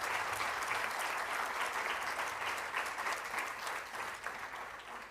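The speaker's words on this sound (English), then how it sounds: "I would like you to give all our officials a round of applause," Audience at an education awards event applauding officials, a dense, steady round of clapping that fades slightly toward the end.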